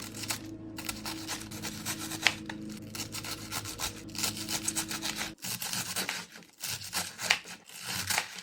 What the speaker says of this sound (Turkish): Öncelikle lahana ince ince keselim.